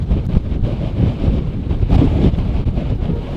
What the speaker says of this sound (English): Insanely windy at the top, so we're only there for a brief second because we almost got blown down.